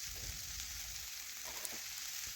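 Dal sizzling and frying steadily in a hot pan while being sautéed for a vegetarian veg dal, a continuous close hiss with faint stirring scrapes and no talk.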